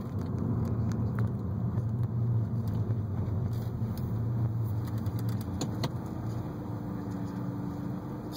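A 2003 Audi A4 Avant B6 with tiptronic transmission and quattro coasts along a road, its low steady cabin rumble and road noise continuous throughout, with a few faint clicks and no talking.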